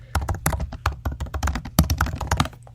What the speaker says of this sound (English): Why can't I type today?